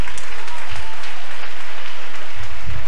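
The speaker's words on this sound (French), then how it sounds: "Applaudissez le Saint-Esprit." A church congregation applauds during a French-language worship service, a steady wash of clapping that holds from start to finish with low rumbles underneath.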